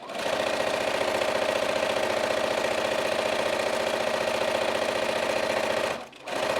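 Sewing machine backstitching the corners of a fabric bag, a loud steady rapid mechanical whir running continuously for about six seconds before stopping abruptly.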